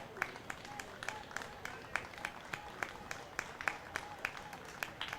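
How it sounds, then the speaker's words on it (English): Crowd at a minor league baseball championship game clapping in a rhythmic, evenly spaced pattern, faint and distant under a low background murmur. "still the clapping continues"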